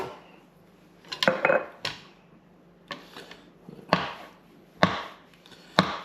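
Green olives roughly chopped on a board for a Greek salad, several sharp knife chops landing in uneven bursts, close and fairly loud with quiet gaps between.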